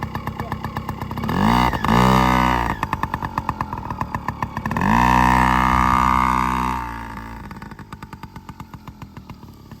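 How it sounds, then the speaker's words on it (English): A child's small motorbike engine revving in two long, loud bursts between put-putting idle stretches, the pitch rising and falling as it rides close by. "Saturday afternoon calls for a good chance for Hamish to ride his motorbike"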